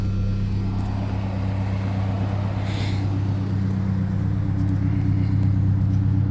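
Shay Thunderbird replica engine idling steadily after a cold start, a constant low rumbling hum, close and loud, with a brief higher-pitched noise partway through.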